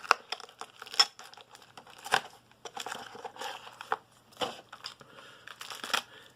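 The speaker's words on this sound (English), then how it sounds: "So we'll get the box open now." A Vaporesso Luxe Nano vape kit box is opened by hand, with close, irregular bursts of cardboard and packaging crinkling, tearing and rustling, set apart by short pauses and no talking.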